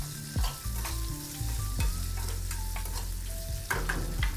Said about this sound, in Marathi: आता हा कांदा सुद्धा आपल्याला परतून घ्यायचा आहे